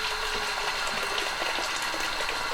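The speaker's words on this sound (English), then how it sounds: "I'm going to dump out about 1/3 of the water into a kettle" Water is poured out into a kettle at a camp kitchen, a steady close rush and splash of liquid that continues evenly throughout with no talking.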